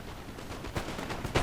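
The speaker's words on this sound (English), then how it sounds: "You can see my musketeers taking a heavy artillery shot there." Artillery and musket fire in a Napoleon: Total War battle between Russia and France, a dense, continuous rumble of distant gunfire with several louder booms poking through.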